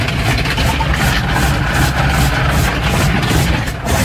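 Automatic car wash rinse spray drums steadily over a 2021 Ford Bronco with its hard top, a loud, continuous rushing wash with the vehicle's engine idling low underneath.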